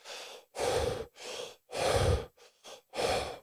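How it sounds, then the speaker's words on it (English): Forceful, rhythmic Wim Hof style breathing, deep rushing inhales and exhales repeated several times in quick succession, close and loud with no talking. "maybe do some like Wim Hof style breathing"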